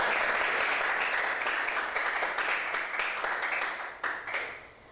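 Applause from a classroom group fills the space, a dense steady patter of many hands clapping that thins and fades out toward the end.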